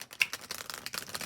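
A thick deck of oracle cards is shuffled by hand, giving a quick run of soft, irregular riffling clicks and flutters close by and fairly faint, with no voices.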